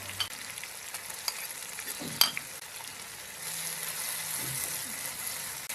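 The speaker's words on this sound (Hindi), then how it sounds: "अब अदरक और लहसुन को अच्छी तरह से पकाएंगे ताकि इसका कच्चापन दूर हो जाए।" A pan sizzles and crackles steadily as ginger garlic paste fries for chicken yakhni pulao, with a sharp clatter of stirring near the middle.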